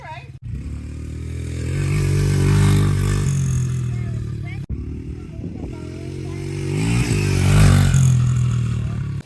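A dirt bike engine revs up and down in long swells, a loud rising and falling whine with a few clattering cuts between, while people talk nearby.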